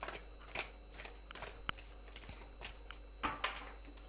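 Tarot cards shuffled and drawn by hand, a soft run of quiet papery riffles and flicks with a few sharper snaps, close and faint, with no talking.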